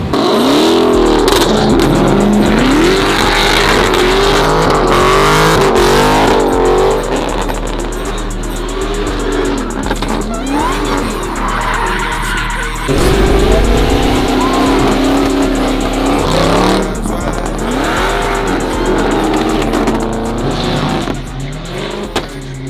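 Two cars drift in tandem with tires burning up, engines revving hard and tires squealing loudly and continuously throughout, with engine pitch rising and falling and a brief surge midway; voices are faintly audible underneath.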